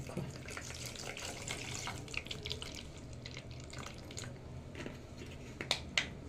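Cold water pours and splashes into a container for several seconds, a faint continuous trickle with a few small drips and clinks near the end.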